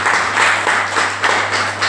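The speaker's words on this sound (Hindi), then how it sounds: "मैम के लिए जोरदार ताली।" Loud audience applause at a company champions day gathering in a branch office hall in Ranchi, dense crowd clapping with uneven surges, a low steady hum beneath, no speech.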